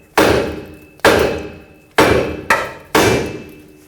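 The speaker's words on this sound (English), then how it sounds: "hit the knuckle right here and it should pop off" A hammer strikes the steering knuckle of a 2009-2014 Ford F-150 five times, each a loud, close metallic bang with a ringing decay, irregularly spaced, with two blows landing in quick succession.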